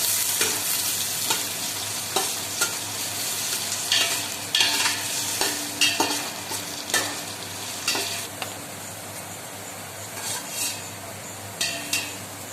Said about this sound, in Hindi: आ एई भली लंबा ही कटा हेतिबा पियाज को मु एथिरे पकेइबी। पियाज टिके एबे भल भाव मु भाजी देबी।